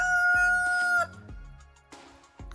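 A hen in a top nesting box squawks with a loud, drawn-out call followed by a few shorter clucks, close and clear with no talking.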